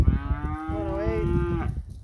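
A Gelbvieh heifer calf gives a single drawn-out moo, close and clear, lasting over a second against a low, rumbling outdoor background.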